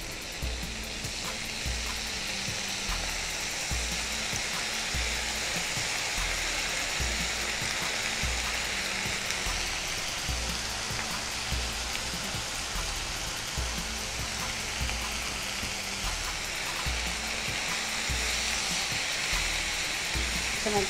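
Cauliflower (gobi) fries with soy sauce in a pan, giving a steady, close, dense sizzle and crackle that runs unbroken throughout, with no speech over it.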